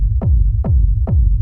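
Three deep kick drum thumps from a raw techno sample with the midrange cut away, each a soft, muffled low boom with a rumbling tail, evenly spaced and loud, no voices.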